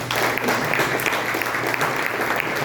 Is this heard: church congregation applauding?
yes